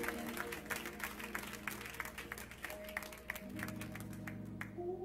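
A church congregation gives a hand clap for the Lord, scattered clapping under an organ or keyboard chord with some voices, fairly faint and distant.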